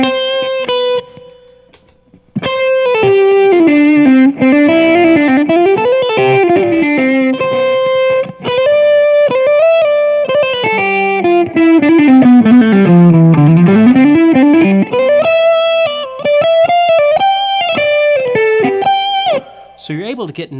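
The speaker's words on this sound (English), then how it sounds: "Let me kick on a little bit of distortion." A distorted electric guitar plays a fast, loud melodic run with sustained notes and bends, thick and saturated, with a brief pause near the start.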